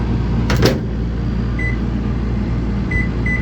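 Microwave oven running with food turning inside, a steady low hum and rumble throughout, with a brief clatter near the start and a few short high beeps toward the end.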